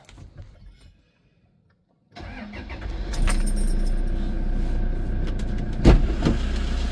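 A car starts up for driving practice, with quiet rustling and then a short silence before the engine catches with a loud burst and settles into a steady close idle, with a sharp knock partway through.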